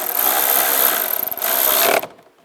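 Nuts being tightened on the taillight of a 2004-2010 BMW X3, a close, loud, continuous rasping whir of a driver spinning the fasteners down, with a brief stutter mid-way before stopping abruptly.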